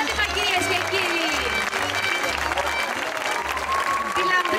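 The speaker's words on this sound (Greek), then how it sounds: "Χειροκρότημα, κυρίες και κύριοι." A theatre audience applauds dancers in a steady, dense wash of clapping that runs the whole time over loud music with a pulsing bass beat.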